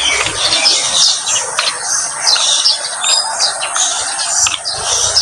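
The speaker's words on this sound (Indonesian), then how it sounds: "Masih sunyi, masih dengar burung-burung berkicau" Birds chirp and tweet continuously on a quiet morning along a mountain road, many overlapping high calls fairly close and clear, with no talk.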